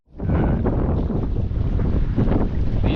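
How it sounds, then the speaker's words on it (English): Strong wind buffets the microphone at a fishing spot beside pilings on the water, a loud, steady roaring rush with gusty swells and no speech. "the wind is starting to get where they forecasted it"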